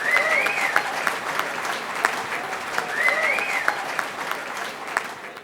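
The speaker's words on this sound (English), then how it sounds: "How about a round of applause for Bill Owens and," Steady applause from a crowd at a sports club team reunion for Bill Owens and Rick Wade, continuous clapping with occasional shouts and whistles over it.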